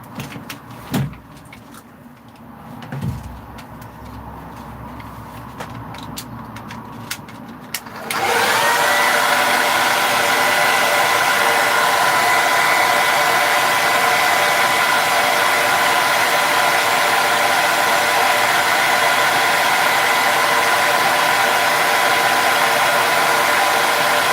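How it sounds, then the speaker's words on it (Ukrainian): A few quiet handling noises, then a hair dryer switches on with a loud, steady blowing whoosh that runs continuously to the end. "далі я це все діло буду зараз висушувати феном"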